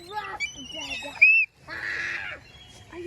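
A young child imitates bird sounds with warbling, squeaky vocal chirps and a drawn-out honking call, close and fairly loud, broken by a brief silence partway through.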